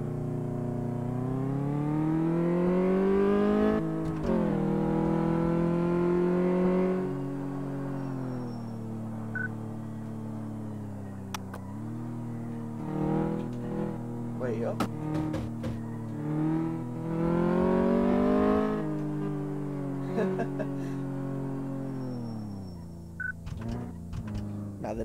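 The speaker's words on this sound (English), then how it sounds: "we just gotta go over and perform a test drive" A car engine in Car Mechanic Simulator 2014 on a test drive, droning steadily with rising and falling pitch as it accelerates and eases off, with occasional clicks and knocks over the hum, no speech.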